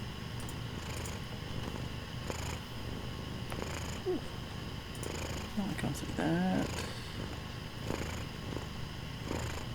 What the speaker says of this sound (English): He's a big purr boy.